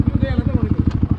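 A motorcycle engine throbs through its silencer in a fast, even pulse, loud and close, with a voice heard briefly over it.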